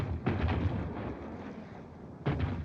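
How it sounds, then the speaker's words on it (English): Army maneuvers send out two heavy booms of gunfire at a distance, one at the start and another about two seconds later, each followed by a rolling rumble that fades away. "What's that shooting? Must be some other outfit having maneuvers."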